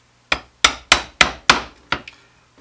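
A mortise is chopped by hand with a chisel and mallet, six sharp wooden knocks at a steady, deliberate pace with a quick double tap at the end, close and clear with no talking.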